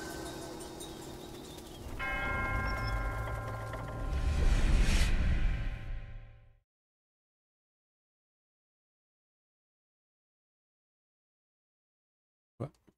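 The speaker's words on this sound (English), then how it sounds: "And that's all four bells right there." Temple bells in the video game Black Myth Wukong ring out with rich sustained tones, swelling loudly for several seconds before cutting to silence, followed by a brief faint sound near the end.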